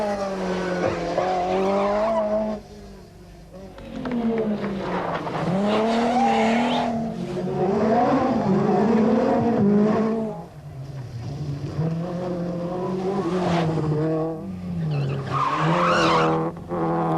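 A Peugeot 205 Turbo 16 rally car races on a dry, twisty Corsica tarmac stage, its engine loud and close as it revs and drops through gears, with tire squeal and skidding through the corners.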